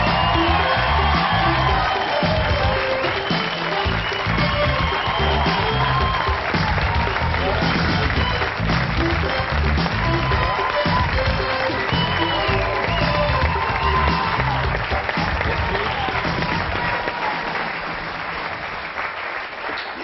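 A television studio audience gives a long, loud ovation for a singer, continuous applause mixed with cheering and whoops, while voices talk and call out over the crowd throughout.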